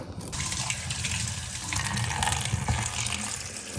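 Tap water gushes steadily into a kitchen sink while eggplants are rinsed under it, a close, continuous splashing flow with small shifts as the vegetables are handled, and no talking.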